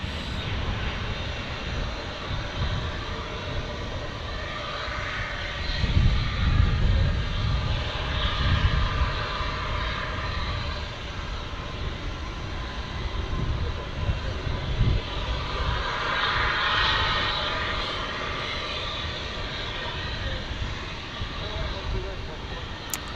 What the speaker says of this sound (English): But there's our A321 Neo.